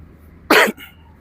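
One short, sharp cough close by, alone against quiet background hum.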